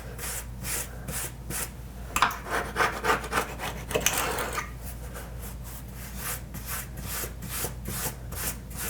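A plastic scraper scrapes old sealant off bathroom tile in a tub and shower surround, with a run of quick rhythmic rasping strokes, close and fairly loud, a denser burst of scraping in the middle, then more even back-and-forth strokes.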